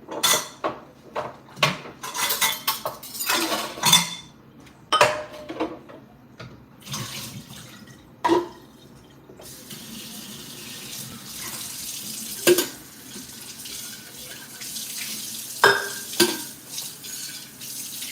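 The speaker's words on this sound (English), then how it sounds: "Get some water to the coffee, get the pot down." A kitchen tap runs in intermittent bursts while a coffee pot is handled, with clinks and knocks scattered throughout at close range and no talking.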